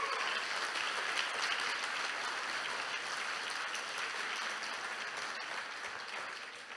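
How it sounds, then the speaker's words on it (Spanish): A church congregation claps during an Easter Sunday service, dense sustained applause that holds steady and then eases slightly toward the end. "Denle una ofrenda de palmas al Señor Jesús por eso."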